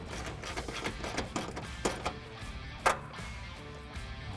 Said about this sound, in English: Tighten up our two 10mm bolts.